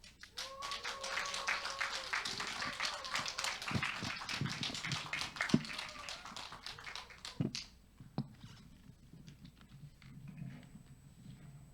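An audience at an audition event claps to welcome performers, a brisk patter of applause for several seconds that then fades into scattered claps and quiet.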